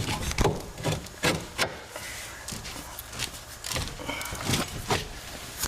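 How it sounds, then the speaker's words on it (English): Sticker being peeled and scraped off a car strut casting during shock and strut replacement on a Mazda 3. Close, irregular rubbing and scratching strokes with small knocks run throughout, without talking. "Now I gotta peel this stupid sticker off because it's gonna bind up in here"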